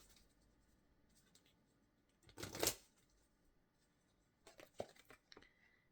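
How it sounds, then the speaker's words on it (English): Angel Tarot cards shuffled in a quick riffling burst, followed a moment later by a few softer rustles and flicks of the deck, close and quiet with no talking. "Let me get some cards from the Angel Tarot."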